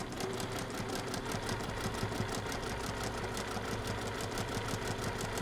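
A sewing machine stitches down quilt binding on a table topper, a steady, fast mechanical whir with an even rapid rhythm running continuously up close, no talking over it.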